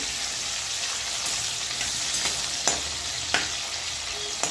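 Eggplant pieces frying in hot oil, a steady dense crackling sizzle with a few soft clicks of a spatula turning them, close and continuous, no talking.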